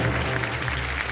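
Studio audience applause on a Hindi quiz game show, a steady, full wash of clapping throughout the short moment, loud and even with no voices standing out.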